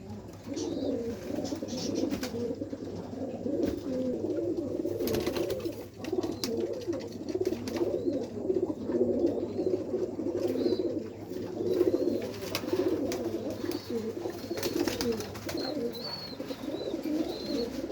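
Imported Nepali pigeons cooing in a loft, continuous overlapping low coos close by with faint chirps, no talking.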